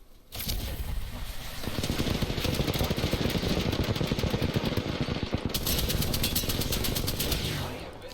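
Sustained automatic gunfire from the video game Apex Legends, a dense rapid rattle of shots continuing for several seconds with brief breaks, loud and close, mixed with mechanical clatter.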